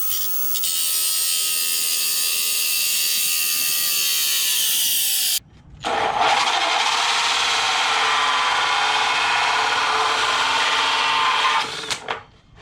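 A power drill with a four-inch hole saw bores through a wall for a dryer vent, a loud sustained high whine in two long runs broken by a short pause, close and with no talk.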